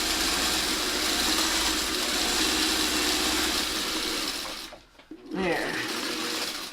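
A sewing machine stitches a quilt pinwheel block, its steady mechanical hum running continuously before cutting out briefly and starting up again, with a short spoken word from someone nearby.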